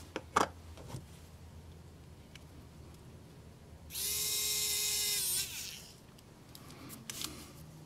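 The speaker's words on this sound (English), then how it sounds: "I want to try to drill" A small power drill bores into a Thomas the Tank Engine model train engine, one high whining burst of just over a second amid quiet handling clicks and taps close by.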